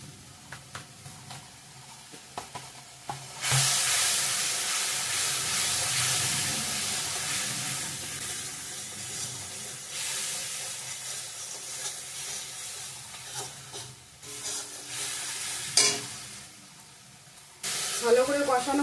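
Coriander, cumin and chili powders fry in oil while being stirred in a pan, heard as loud bursts of hissing sizzle separated by quieter gaps with faint clicks and scrapes.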